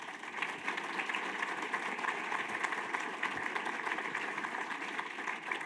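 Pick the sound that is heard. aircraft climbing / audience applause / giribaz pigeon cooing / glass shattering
audience applause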